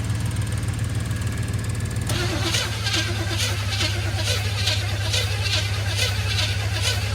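The stuck small-block Chevy in a 1970 C10 cranks over, a loud, close, rapid rhythmic churning from the starter that goes on without a break, with voices heard faintly beneath it.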